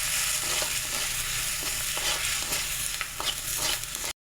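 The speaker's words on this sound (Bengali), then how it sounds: "এবার এটাকে ভালো করে একটু কষিয়ে নেবো।" Prawns sautéing with turmeric, chili and cumin powder, frying in a pan with a steady broadband sizzle while a spatula scrapes and stirs in soft repeated strokes; the sound stays loud and close throughout and cuts off abruptly at the very end, with no voices.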